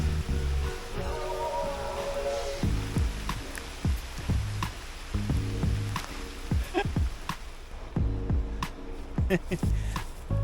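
A rain shower falls beside a river, a steady broadband hiss of drops with scattered close taps and patters running throughout, while a voice murmurs faintly underneath.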